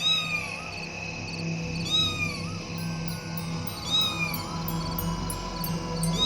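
A black cat meows again and again in drawn-out, wavering cries, close and clear over a faint background hum.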